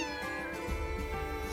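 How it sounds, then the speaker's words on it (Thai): A kitten meows in the video game Cat Quest III over a steady, rich musical background, a single drawn-out cry with no voices present. "เสียงลูกแมว"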